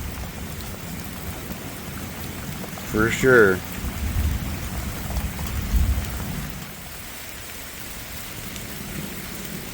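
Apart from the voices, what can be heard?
rain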